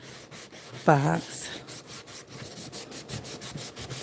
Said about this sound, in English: I'm using a soft sanding block to take some of this gloss off of this